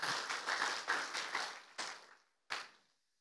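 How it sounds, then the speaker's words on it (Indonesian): A church congregation at a Sunday worship service claps together in loose rhythmic bursts, then the clapping thins into a few separate final claps and fades into near silence, fairly quiet and without talk. "Tepuk tangan buat Tuhan Yesus dong."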